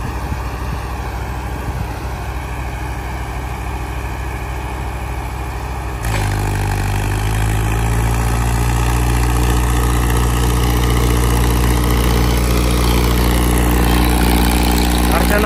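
John Deere 5210 and Mahindra 555DI tractor engines run at about 2000 RPM during a harrow comparison. A steady loud diesel drone steps up abruptly partway through into a heavier, deeper roar, with talk over it.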